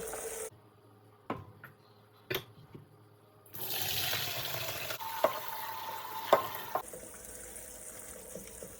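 Salted zucchini relish vegetables are rinsed in a strainer, with running water gushing steadily from about the midpoint after a quieter start broken by a few knocks and clatters.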